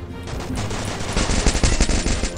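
Rapid automatic gunfire in the mobile battle royale game Free Fire, loud bursts of closely spaced shots building in intensity over a bed of game sound, with no talk.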